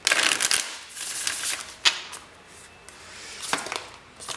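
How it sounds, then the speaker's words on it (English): Tarot cards being shuffled in quick riffling bursts, with crisp papery flutters and a few sharper snaps, close by and with no voices. "One more shuffle."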